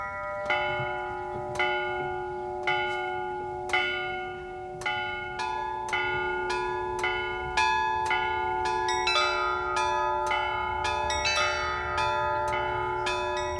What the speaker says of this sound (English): the unmistakable sound of church bells ringing out across the town